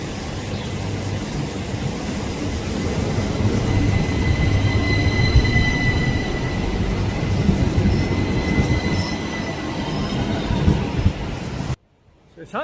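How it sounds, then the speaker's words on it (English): A tram-train rumbles past close by near Chur station, Switzerland, with steady, heavy low-end roar and faint high wheel squeals, continuing for several seconds before cutting off abruptly. "this is the tram train thing here, making its way back to Chur station."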